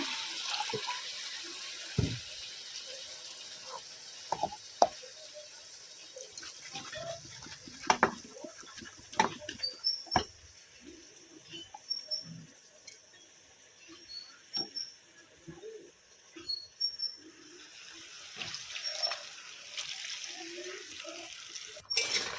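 Water splashes and trickles while something is rinsed in a home kitchen during cooking, with intermittent clatter and drips near at hand across a long stretch.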